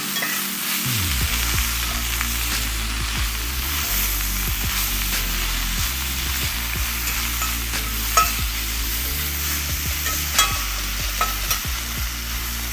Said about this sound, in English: This is only gonna take 1 to 2 minutes to get our spinach sauteed down.